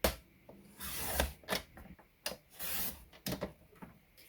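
Mirror gold cardstock squares being cut from corner to corner, producing a few short crisp slicing and rubbing sounds with soft handling noises between them, close and fairly quiet.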